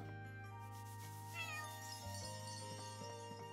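A cat meows in the video game Chained Echoes, a clear, drawn-out call over a soft sustained game music backdrop.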